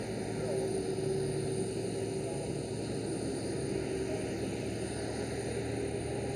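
KLM Airbus A330 airliner pushing back at Amsterdam Schiphol, a steady whining jet engine hum with constant tonal drone, heard from a distance without change in level.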